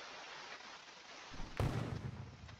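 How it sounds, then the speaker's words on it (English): An artillery bombardment in a war video game: a faint, distant rumble builds, then a sharp, loud impact bursts and leaves a deep, booming tail, with no talking. "Oh crap, now we're being bombarded."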